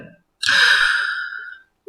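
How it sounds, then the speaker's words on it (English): A single long, breathy yawn rises and trails off over about a second, close and alone in an otherwise quiet moment. "So everyone, enjoy that yawn."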